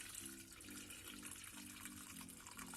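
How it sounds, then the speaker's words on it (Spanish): Very hot water from a kettle is poured steadily into a casserole dish in a home kitchen, a faint continuous splashing trickle with no talking. "Vamos a echar el agua bien caliente."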